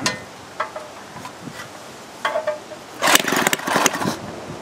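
A homemade twin Briggs engine sputters irregularly, with scattered pops and short bursts of combustion that grow denser and louder toward the end, close by, with no speech.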